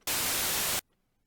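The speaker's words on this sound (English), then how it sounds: "we have basic white noise that just sounds like this" A loud burst of harsh white noise hisses for under a second, then cuts off abruptly into near silence.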